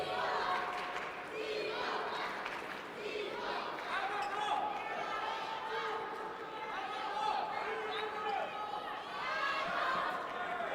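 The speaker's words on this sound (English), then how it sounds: "We've got about half of the place chanting" A big arena crowd at a table tennis men's singles semifinal chants and cheers in a steady, loud wash of many voices that never lets up, with rhythmic rises and a far-off echoing hall feel.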